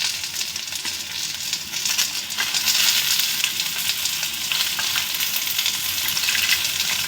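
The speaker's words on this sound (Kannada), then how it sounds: "ಚೆನ್ನಾಗಿ ಫ್ರೈ ಆಗಿದೆ ಒಂದು ಸೈಡು" Okra (bhindi) sizzling and frying on a hot tawa, a steady dense crackle holding close and loud throughout with no talk over it.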